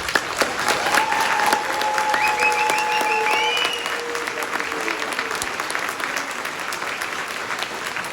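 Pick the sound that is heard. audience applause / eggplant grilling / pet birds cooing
audience applause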